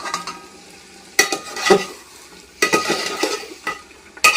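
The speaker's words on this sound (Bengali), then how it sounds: "এবার পোড়ানো মাংসগুলোকে হাঁড়ির মধ্যে দিয়ে দিচ্ছি।" Burnt chicken pieces stirred and fried in a pot with spiced potatoes, bursts of scraping and sizzling in several loud strokes with quieter sizzle between.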